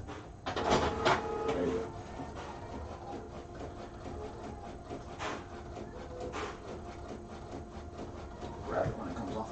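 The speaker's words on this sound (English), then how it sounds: "you can actually see it print." A Sawgrass Virtuoso sublimation printer printing a page produces mechanical whirring and clunking passes, with a few louder clacks, heard at moderate level while a person speaks briefly.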